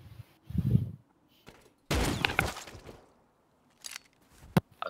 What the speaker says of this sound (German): Hast du mit der Pipe geschossen?